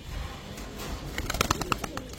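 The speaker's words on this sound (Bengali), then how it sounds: "সিলভার পাখি একটা নর কবুতর" Male silver pigeon cooing among pigeons for sale, a series of soft, rounded coos in a loose rhythm, close by over a low background murmur.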